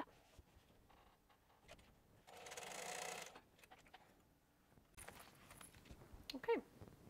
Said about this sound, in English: I'm about to sew the other panels on.